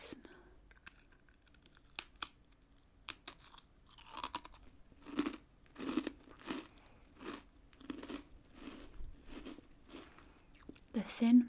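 Thin British biscuits crunched while being eaten, a series of close, crisp snapping bites and chewing crunches that come irregularly at first and then in a steady rhythm, loud against a quiet background.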